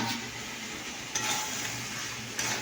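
Potatoes frying in oil in a pan and being stirred, a soft, steady sizzle broken by two brief bursts of scraping as the spoon moves them.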